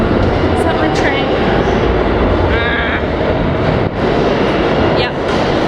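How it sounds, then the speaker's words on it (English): A train rumbles loudly close by, a dense, continuous roar with some higher squeals and rattles riding on top. "Is that my train?"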